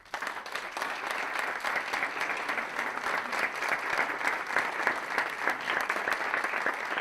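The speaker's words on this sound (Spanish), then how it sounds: "agradezco un aplauso para Cristina" Steady applause from an audience at a book presentation, a dense wash of clapping that holds for several seconds without letting up, heard from a slight distance.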